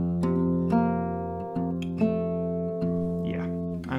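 An acoustic guitar plays the intro of a song at tempo, a few sustained chords struck in turn and left ringing, close and clear with no voice.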